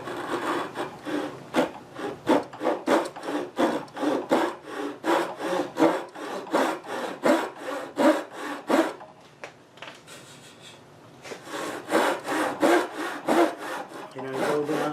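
A hand saw cuts the wood of a Queen Anne chair's lower side stretcher in steady, rhythmic back-and-forth strokes, close and crisp, with a brief pause partway before the strokes resume.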